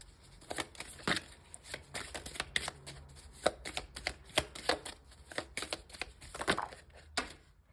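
Cards being shuffled and drawn for a reading, a close, rapid series of crisp riffling snaps and slaps in irregular bursts, with no talk.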